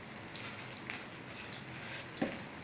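Cumin, mustard and fenugreek seeds sizzle in hot oil for a tempering, a steady soft crackle with one sharper pop near the end.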